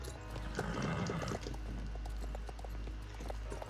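In the Star Stable Online video game, an Andalusian horse's hooves clip-clop in a steady, close galloping rhythm, beginning with a louder busy stretch before settling into regular beats over a low hum.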